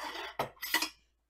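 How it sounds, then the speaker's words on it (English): A metal knife picked up in a home kitchen while making bread, a few short bright clinks of cutlery against dishes in quick succession, close and clear with no voices. "I need a knife. I've got one here."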